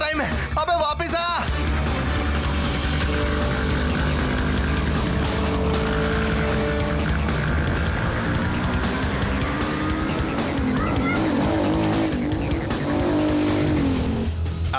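A stolen car speeds off with tires squealing and engine roaring, loud and continuous throughout, with a shouting voice and dramatic music mixed in.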